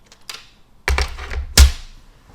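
Card stock pieces cut from a quarter sheet of A4 are trimmed down, making a few sharp, close thunks and clicks of a paper trimmer in quick succession, the last one loudest.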